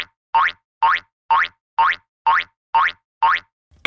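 Cartoon boing sound effect for a bouncing figure, eight identical springy rising boings in an even steady rhythm, loud and clean with short silent gaps between them.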